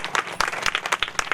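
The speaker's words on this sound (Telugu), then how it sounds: "అందరూ కూడా చప్పట్లు కొట్టాల్సిందే" A crowd at a free medical camp claps briskly, with distinct overlapping hand claps forming a quick, uneven rhythm, close and moderately loud.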